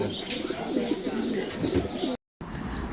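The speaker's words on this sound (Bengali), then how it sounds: "সব গৃহপালিত কবুতরই উদ্ভব বুনো কবুতর থেকে।" Several domestic pigeons at a pigeon market in Savar coo in overlapping throaty rumbles, near and continuous, with a few chirps; a brief gap of silence falls near the end.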